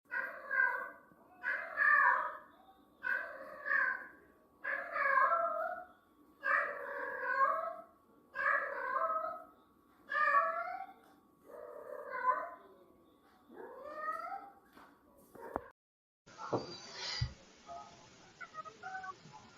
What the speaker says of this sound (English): What is the odds of her meowing at the same time?